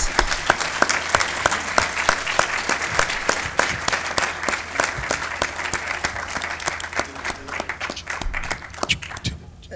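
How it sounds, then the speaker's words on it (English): An audience at a university alumni music celebration applauds, dense clapping with some sharp close claps standing out, steady for most of ten seconds before fading. "So y'all, round of applause, please, for these alum,"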